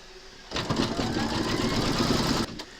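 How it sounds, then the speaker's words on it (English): An embroidery machine stitches two layers of fabric taped into a hoop for a crazy patch notebook cover, a close, steady mechanical whir lasting about two seconds that starts and stops abruptly. "pop your hoop into your machine and stitch round number 3"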